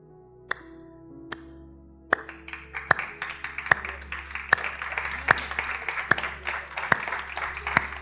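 A preacher claps his hands in steady rhythm during a church sermon, about nine sharp, evenly spaced claps ringing over a sustained musical drone.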